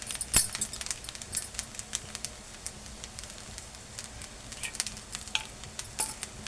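Potato rice stirred in a pan: a steady run of soft scraping and clinking ladle strokes over a faint sizzle, close by, with no voices.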